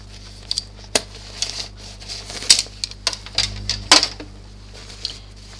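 Scissors snip out an embroidered fabric piece backed with stabiliser for a small fortune cookie purse. The snips come close up as crisp, irregular clicks spread over several seconds, with no voices.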